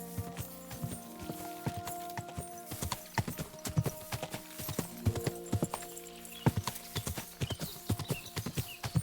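Horse hooves clip-clop in a quick, steady gait throughout in Kingdom Come: Deliverance 2, with a melodic game score underneath and close, clear hoofbeats.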